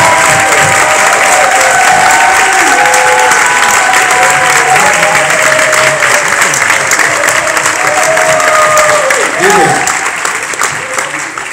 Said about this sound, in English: can we give a warm round of applause for our new SGI USA National Men's Leader